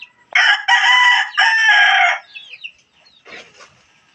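Backyard chickens, with a rooster crowing loudly and close in long, strained bursts, then a short scratchy cluck. There is silence between the calls.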